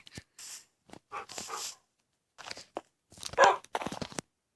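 Dogs in a Minecraft escape map game, several short separate bursts of barking, crunchy biting and whimpering with silent gaps between, fairly close and clear, no talk.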